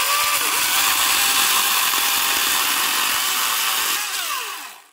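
A chainsaw cuts through nailed wooden panels, the engine snarling loud and steady at full revs throughout before easing off and dying away in the last second.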